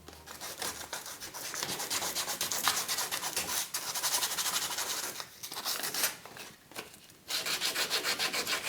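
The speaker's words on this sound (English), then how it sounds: "sanding in depth the table" The feet of a massive wooden table are sanded by hand or machine, a steady close rasping rub that runs nearly continuously with a few short pauses and shifts in pressure.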